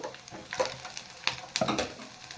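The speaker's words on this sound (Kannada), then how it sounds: "ಬೆಳ್ಳುಳ್ಳಿನ ಚೆನ್ನಾಗಿ ಫ್ರೈ ಮಾಡ್ಕೋಬೇಕು" Garlic frying in oil in a pan for a village-style mutton sambar: close, crackling sizzle broken by a few sharp scraping stirs, with no voices.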